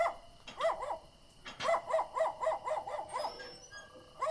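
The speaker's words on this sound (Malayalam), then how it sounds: "ഇവിടെ പട്ടി ഉറക്കുന്നുണ്ടല്ലോ" A dog barks in a quick run of about ten sharp, mid-pitched barks at a house gate, fairly close and clear, with short pauses between bursts.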